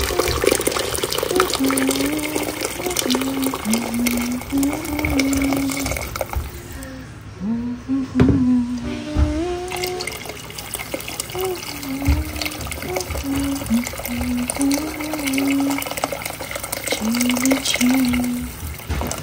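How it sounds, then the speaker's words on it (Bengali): Water running into a big pot of creamy chicken soup as a steady, close trickling pour that lasts throughout, while someone talks over it. "পানি দিয়ে দিব যতটুকু আমি চাই।"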